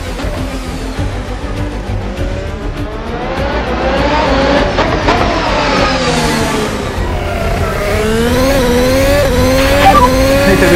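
Formula 1 car in the Assetto Corsa racing game at high speed on the Akagi mountain road, a loud, continuous high-pitched engine scream rising and falling through gear changes, with faint tyre squeal and no voices.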